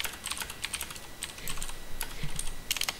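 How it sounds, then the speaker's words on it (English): Rapid clattering keystrokes on a computer keyboard, typed in uneven bursts at close range with no voices. "So I'm typing and speaking, so it sounds a bit weird"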